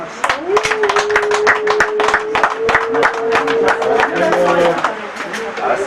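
Applause from an audience at a Rwandan wedding ceremony, dense and steady clapping filling the whole stretch, close and loud, with a sustained tone running underneath.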